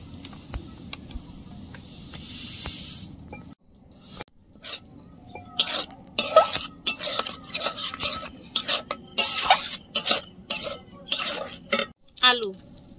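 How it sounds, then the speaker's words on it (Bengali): A spoon repeatedly scraping and clanking in a pan as semolina and potato are stirred together with water, ginger, green chili and cumin, in irregular rhythmic strokes after a quieter opening. "সুজির সঙ্গে ভালোভাবে মিশিয়ে নেব"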